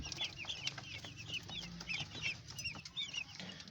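Black Australorp chickens, a flock of sitting hens on a farm, cluck softly in repeated short calls, faint and close together, with no talk.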